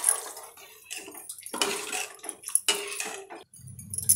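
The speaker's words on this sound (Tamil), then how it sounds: "மிக்சி கழுவுன தண்ணியை சேர்த்துக்கலாம்." Mixer rinse water is poured into a bitter gourd and tamarind curry in a pan, with clinking utensil and vessel sounds and short bursts of splashing liquid, close and fairly quiet.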